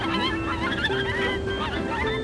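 A duck calls with a run of nasal, honking quacks, loud and close, repeating steadily through the whole stretch with no voices over it.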